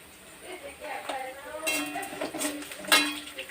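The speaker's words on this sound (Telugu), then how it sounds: "ఇప్పుడు పోపులు ఇలా వేగుతున్నప్పుడు 1 స్పూను పల్లీలు వేసుకుందాం." Oil starts crackling and sizzling after a spoonful of peanuts drops into a tempering pan, with a few clinks of a spoon against metal, close by.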